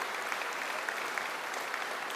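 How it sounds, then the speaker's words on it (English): A graduation ceremony crowd applauds for the school's buildings and grounds crew, a dense, steady clapping that holds evenly from start to finish at moderate distance. "let's give them a round of applause"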